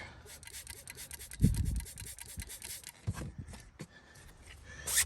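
A stiff-bristled brush scrubbing a car's interior upholstery to clean off mould, quick rhythmic rasping strokes, close and fairly soft, with a few heavier thumps.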